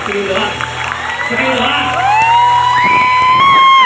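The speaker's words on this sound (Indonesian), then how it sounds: "Tepuk tangan buat boys" A lively crowd claps and cheers with whoops and shouts, loud and close, while music with sustained tones plays underneath and voices rise over the noise.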